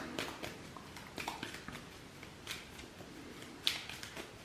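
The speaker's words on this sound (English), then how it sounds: "I'm gonna do a quick shuffle the cards." A deck of cards from Arkham Horror: The Card Game being shuffled up close, a soft riffling texture with scattered light snaps and one sharper tap near the end.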